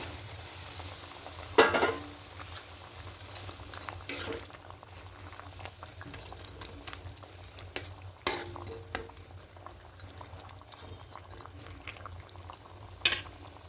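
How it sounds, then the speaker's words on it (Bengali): Curry gravy with hilsa fish and eggplant simmering in a pan, giving a steady low bubbling sizzle with a few louder stirring clatters and knocks scattered throughout; no talking. "এবার একটু ঝোলটা ফুটতে শুরু করে দিয়েছি।"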